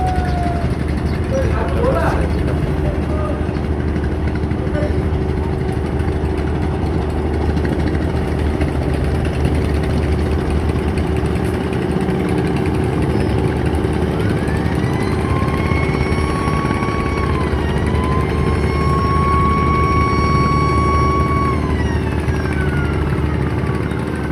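A passenger trawler boat's engine drones loudly and steadily throughout near a river launch ghat on the Ilisha route, a close, unbroken rumble with a faint higher whine joining later.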